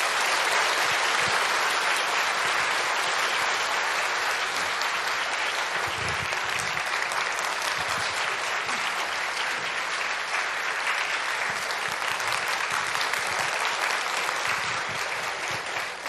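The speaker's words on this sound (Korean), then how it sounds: "큰 박수로 모시겠습니다." Sustained, loud applause from a church congregation fills the space, a steady dense clatter of many hands that holds without pause from start to finish.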